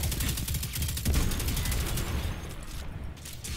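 Rapid gunfire in the video game Destiny 2, with dense bursts of automatic shots that crackle loudly for a couple of seconds before thinning out and fading.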